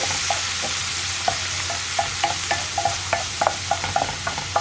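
Carrot, beans and egg thoran cooks in a pan over a low flame, giving a soft, steady sizzle broken by light, irregular clicks and scrapes of stirring, with no talking.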